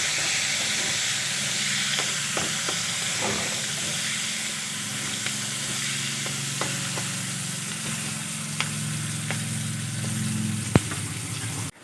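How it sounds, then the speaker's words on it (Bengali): Thin, long-sliced onions fry in hot oil with a steady, close sizzling hiss, broken by occasional light clicks of stirring. "পেঁয়াজগুলো ভেজে নেব।"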